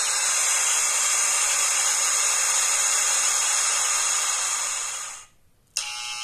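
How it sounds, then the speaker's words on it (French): A hair dryer at a hair salon blows with a steady, loud whooshing hiss for several seconds, then winds down and cuts off with a brief click. "sèche-cheveux"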